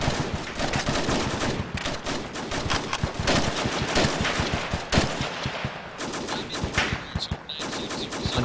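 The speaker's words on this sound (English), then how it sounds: "Get off the hill, there's a big gun firing at you." Heavy gunfire from a large mounted gun in the military video game ARMA 2, a dense, continuous stream of loud close bursts and rapid shots lasting throughout with hardly a pause.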